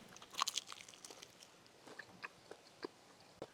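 Close, quiet crunchy bites and chewing on fried chicken, with a few sharp crackles near the start and then softer chewing at intervals, and no talking.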